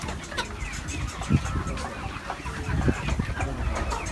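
Chickens cluck and murmur continuously on a poultry farm, several birds close together, forming a dense, busy flock chatter.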